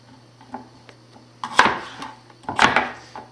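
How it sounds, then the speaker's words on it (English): A knife chops potatoes and yams on a cutting board, two distinct solid knocks with a few faint taps between them, close and quiet otherwise. "Essentially, we're just chopping them in half, chopping that in half again,"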